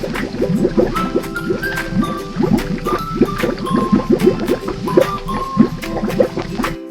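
Cartoon underwater bubbling from a catfish under a bay, a rapid run of wet gurgling blips and pops over a low watery bed, fairly loud and continuous.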